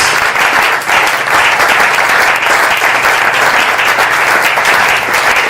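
A church congregation greets an arriving pastor with loud, dense applause that holds steady and close for several seconds, with no voices standing out.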